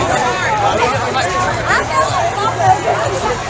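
A large crowd of people lined up around a haunted house building, a steady hubbub of overlapping chatter and babble, close and continuous with no single voice standing out.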